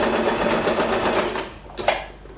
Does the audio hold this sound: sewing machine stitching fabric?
yes